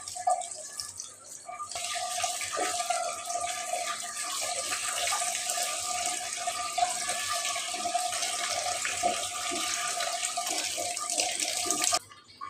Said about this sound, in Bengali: এগুলি সব ধুয়ে নিচ্ছি।